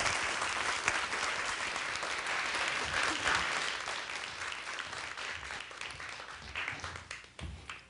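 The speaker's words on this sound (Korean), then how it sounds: "여러분 큰 박수 부탁드리겠습니다" An audience at a Korean lecture concert welcomes a food humanities professor with sustained, dense applause that holds strong for several seconds, then thins and tapers off toward the end.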